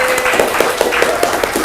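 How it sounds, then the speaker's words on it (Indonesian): A classroom of eleventh-grade students claps together in a short, rhythmic burst, with the palm strikes landing in a fairly steady beat, loud and close throughout. "Berikan tepuk tangannya."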